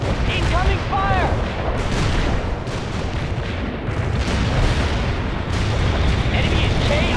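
Incoming artillery explosions on a battlefield in the World in Conflict strategy game, a steady rumbling barrage of booms under layered combat noise, with short radio-style voice chatter near the start.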